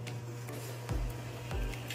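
An Epson L5290 pigment ink printer runs its calibration, a steady low motor hum with two brief whirring carriage sweeps, fairly quiet and close.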